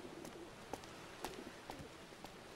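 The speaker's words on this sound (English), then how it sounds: "there's a pigeon here somewhere" A pigeon softly cooing in the game GTA IV, several short, faint coos spaced apart over a quiet ambient background.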